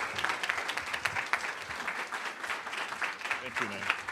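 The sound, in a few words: audience applause for a speaker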